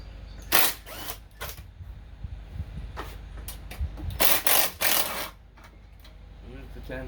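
A socket wrench turns 10 mm bolts on a Tecumseh small engine during a carburetor swap, making close, quick ratcheting clicks in short bursts with brief gaps between strokes.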